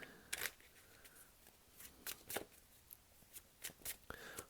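A deck of tarot cards being shuffled close by: short, crisp riffling bursts of papery flicks come in irregular clusters, separated by quiet pauses.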